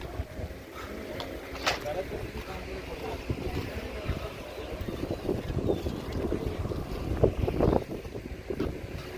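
Boats cruise on a dam reservoir during a boat ride, a low motor drone mixed with water wash and heavy wind buffeting the microphone, while people talk nearby throughout.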